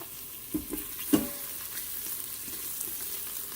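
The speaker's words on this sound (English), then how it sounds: "So in goes my garlic." Garlic sizzles and fries in hot fat inside an Instant Pot, a steady close hiss broken by a couple of sharp crackles and pops as it hits the surface.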